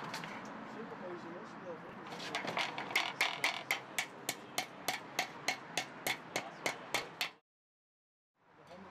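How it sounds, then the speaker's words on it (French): Nail anchors hammered into a drilled exterior facade to fix an insulation profile, a rapid series of about fifteen sharp, evenly spaced blows ringing close and loud after a stretch of speech, then a short silence. "Vous fixez aisément le profil avec des chevilles à clous."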